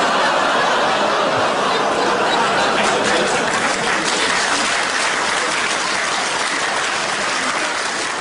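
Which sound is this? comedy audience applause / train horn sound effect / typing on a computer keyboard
comedy audience applause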